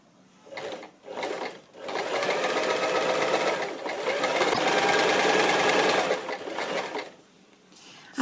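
A sewing machine stitches pinned fabric along a seam of a child's kerchief. Two short bursts are followed by one long, even run of rapid needle clatter that stops near the end.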